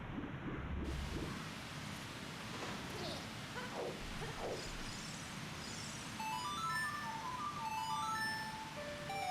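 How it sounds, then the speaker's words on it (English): A stream notification plays as a bright, rising chime melody of several quick tonal notes, fairly loud over a low background hiss. "That noise, the notification noise though, was just like very loud."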